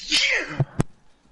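A single short sneeze, close and loud, followed by a couple of brief soft thumps.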